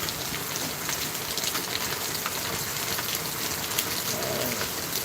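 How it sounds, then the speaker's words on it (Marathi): Heavy rain pours down outdoors in a dense, unbroken hiss that holds at a steady, loud level throughout, with no voices. "जबरदस्त पाऊस पडतो"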